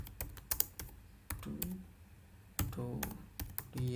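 Someone types on a computer keyboard while writing in the nano editor, quick bursts of close, crisp key clicks separated by short pauses.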